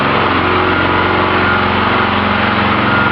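A larger replacement engine runs on a Charlek wood gasifier, a loud, continuous close-up drone with a steady pulsing beat and no pauses.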